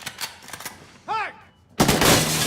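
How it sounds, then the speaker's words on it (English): Gunfire from an episode of The Boys plays as a burst of quick shots, then a rising whistling tone, then a loud sustained blast of firing, with people talking faintly beneath. "Men with guns firing immediately."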